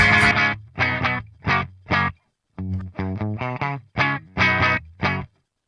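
Electric guitar played through a Revv Generator 120 Mk3 amp with a short, springy reverb: a series of distorted chord stabs in a rhythmic pattern, each cut off sharply with brief gaps between, loud and close with no talking.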